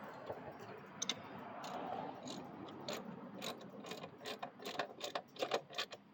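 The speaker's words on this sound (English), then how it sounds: "We'll tighten up this axle bolt." A ratchet tightens the axle bolt on a Coleman B200RSV minibike, its pawl clicking in quick, close runs that quicken and grow louder toward the end.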